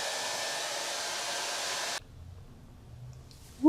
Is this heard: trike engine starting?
no